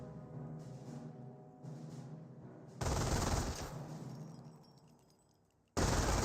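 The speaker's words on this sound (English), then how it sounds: "there's a strafing run there" Sustained fusillades of strafing-run gunfire in Company of Heroes rip through a battle soundscape in long, dense bursts, fading away before another loud burst erupts at the end.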